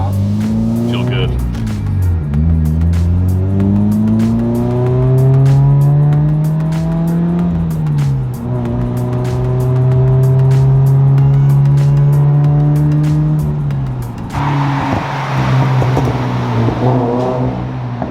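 A widebody Toyota 86 engine revs and accelerates hard with repeated rising engine sweeps and gear changes, loud and close, with speech heard over it.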